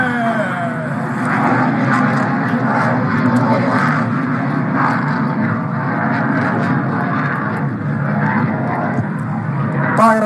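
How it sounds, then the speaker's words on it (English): HAL Tejas single-engine light combat jet flying a display at the Dubai Airshow 2023, a steady loud jet roar sustained throughout, heard from a distance across the crowd area with faint background noise. "Here comes to you presenting Bharat Ki Shaan, the light combat aircraft, Tejas."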